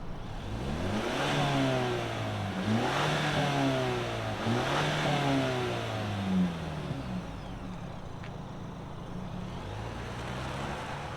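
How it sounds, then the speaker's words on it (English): A 2024 Ford Ranger Lariat with the 2.3-liter EcoBoost engine revs repeatedly near the microphone, each rise in pitch climbing and falling back in steady waves over a constant idle, with no talking. "let's fire it up and hear what it sounds like"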